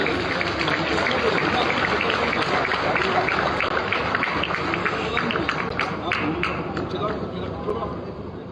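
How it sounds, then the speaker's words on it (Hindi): Loud, continuous applause from an audience at a defence exhibition inauguration attended by the Governor of Maharashtra, a thick steady roar of clapping that fills the whole stretch and eases slightly near the end. "जोरदार तालियां हो।"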